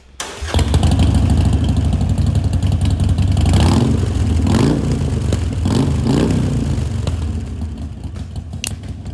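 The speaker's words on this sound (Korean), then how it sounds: "이제 반스 머플러 소리 한번 들어보겠습니다" A 2020 Harley-Davidson Forty-Eight motorcycle with a Vance exhaust starts up and idles with a deep, loud rumble, blipped several times into short revs before settling back, close by and without any talk.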